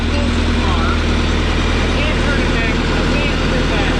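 John Deere skidder engine running during a winch repair, a loud steady diesel drone with low rumble, close, while people talk over it.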